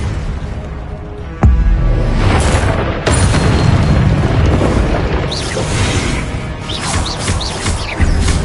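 Loud, repeated explosive booms from fire-curse spells such as Confringo cast in a Hogwarts wizarding video game, with crackling blasts bursting one after another over a dense, continuous layer of game noise.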